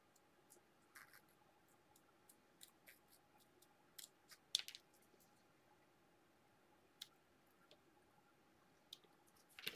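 Scissors cutting 1.5 mm cardboard at a scrapbooking table, a series of faint, sparse crisp snips and clicks at close range with quiet gaps between them.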